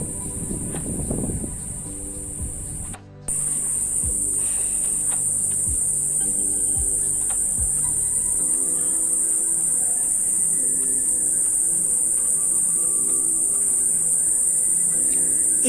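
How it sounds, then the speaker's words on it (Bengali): Crickets in an afternoon garden on the Ganges bank near Kolkata, a loud, continuous, high-pitched shrill chorus that drops out briefly, then carries on unbroken, with a few soft knocks and rustles early on. "এখানে ঝিঝি পোকার ডাকগুলো শুনুন"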